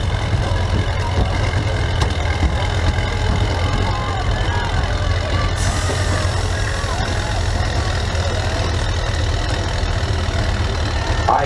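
A tractor engine at a harvest-days tractor pull roars steadily under heavy load, loud and constant throughout, with a crowd and an announcer faintly audible in the background.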